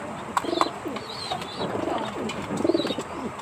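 Pet pigeons cooing close by in their coop, soft repeated low coos from several birds overlapping against a steady background hiss.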